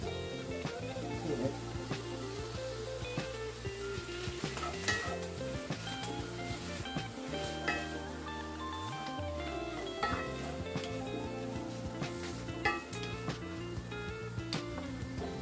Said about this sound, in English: I'm going to add some hoisin sauce